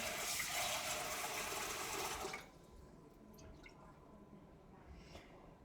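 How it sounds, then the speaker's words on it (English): Rice being rinsed in water to wash off the starch, with a close, rushing splash of running water for about two seconds, then quiet drips and small swishes in the background. "Now rinse it off one more time."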